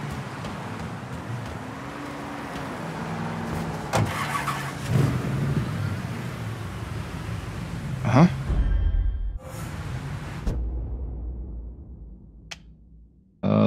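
A car engine starts and drives in the Mafia 3 video game, rumbling steadily with thumps of door and movement, rising revs, then cutting out near the end.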